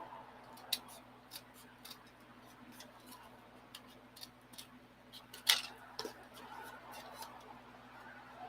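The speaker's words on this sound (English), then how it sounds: "that's why I keep trimming it back a little bit" A craft piece trimmed with scissors, a series of crisp, quiet snips at irregular intervals, close by over a faint steady hum, with no talking.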